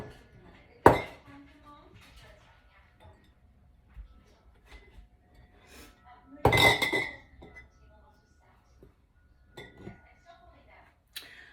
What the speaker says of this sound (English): All right, so these are going into quart jars.